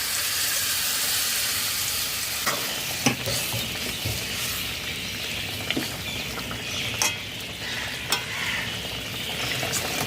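Spices sizzle steadily in a pan with occasional stirring clinks, cooked for a raw banana, potato, bori and katla fish curry as boiled vegetable water is added; continuous loud frying with no talk.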